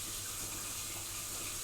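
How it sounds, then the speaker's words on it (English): Tap water runs steadily into a kitchen sink over a dish being rinsed while a meat and potato pie is made, a continuous soft hiss and splash with no pauses or voices. "Put this in here and run some water on it."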